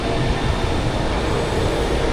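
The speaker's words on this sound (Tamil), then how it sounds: "வந்துருச்சு பாருங்கள் ட்ரெயின்" A green line metro train rumbles into a station in Brazil, a loud steady roar of wheels and carriages close by, with no talk over it.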